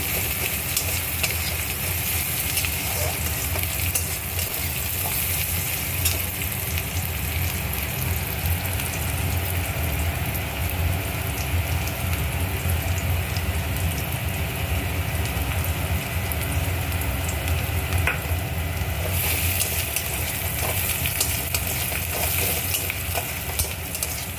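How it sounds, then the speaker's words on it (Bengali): Chopped onions sizzle in hot oil in a pan for an Indian-style capsicum curry, a loud, continuous close frying hiss with light stirring scrapes throughout and no talk. "একটু অল্প বাদামি করে ভাজবো পেঁয়াজগুলো।"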